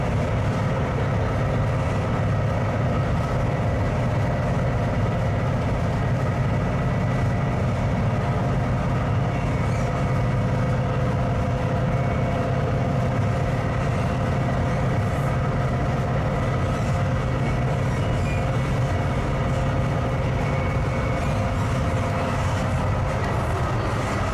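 A Brightline passenger train rumbles past continuously, a loud steady roar of wheels and engine with a constant low hum throughout, no voices.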